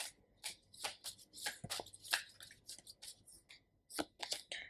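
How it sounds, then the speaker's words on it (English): A tarot deck being shuffled by hand, with quick papery riffles and slaps arriving in irregular bursts, close and fairly quiet, with no talking. "We're gonna shuffle the tarot deck for you."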